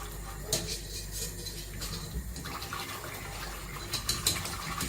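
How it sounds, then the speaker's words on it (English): Milk is poured into a pot of lentil soup and stirred, a quiet, soft liquid gurgle with light splashes and faint utensil taps against the pan. "Slowly add the milk to the soup, bring it gradually to the boil, season to taste and stir."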